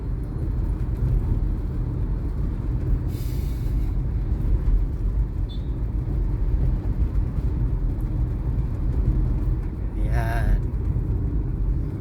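Road traffic on EDSA highway heading toward Cubao makes a steady, loud rumble of passing vehicles with faint hissing bursts, while someone speaks over it throughout.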